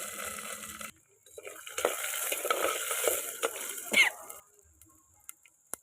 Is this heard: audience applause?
no